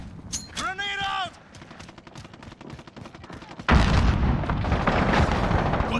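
A grenade explodes in Call of Duty Modern Warfare, landing as a sudden loud, sustained burst after a stretch of scattered gunfire and game sounds. Tonal game effects come first, and speech is present.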